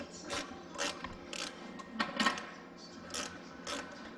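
A ratchet wrench with a 7/32 socket clicks in short repeated bursts, close up and fairly quiet, while working on the front bumper of a Shelby GT350.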